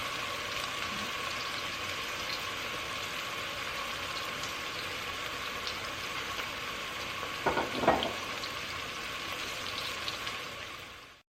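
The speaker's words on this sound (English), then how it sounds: "we're going to use a little of the oil to fry up our onions for our rice" Onions frying in a little oil for jollof rice, a soft steady sizzle with faint stirring and a brief clatter near the end.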